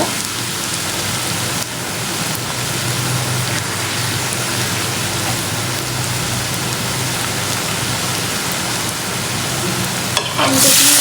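Water is poured into a pan of sizzling bhuna, likely shutki bhuna, and the hot pan answers with a loud, dense, continuous hiss like heavy rain. It rolls on steadily, close and alone, with a brief clatter near the end.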